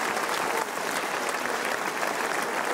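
Studio audience at a French game show gives steady, dense applause to a winner who has taken a €10,000 cash prize, the clapping filling the room evenly throughout without pause.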